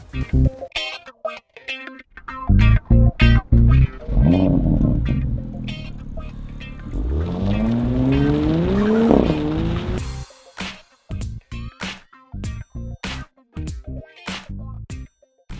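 A 2018 Porsche Panamera Sport Turismo drives past loudly, its engine rising in pitch through a long acceleration, framed by sharp, punchy bursts of sound before and after.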